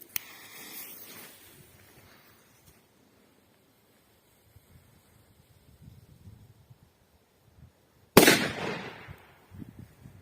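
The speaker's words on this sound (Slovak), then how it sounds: "Ďalej petarda Crash." A firecracker sold as Crash explodes in one loud, sharp bang near the end, after a faint earlier crackle and quiet gaps, with a scattering of small pops and debris trailing off afterward.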